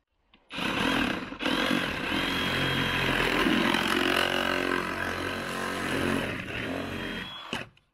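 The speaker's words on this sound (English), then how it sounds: "You want Sawzall?" A Sawzall reciprocating saw cuts through drainage pipe during a driveway drainage job, a loud, steady buzzing rasp that runs about seven seconds close up, starting and stopping abruptly with no talk.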